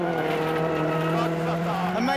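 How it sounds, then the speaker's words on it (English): A rally car drives through a fast, tight right-hand corner on a stage, its engine note steady and loud with some tire noise, while a co-driver's voice reads pace notes over the top. "Let's listen to Jarmo's delivery and watch Mikko drive our corner."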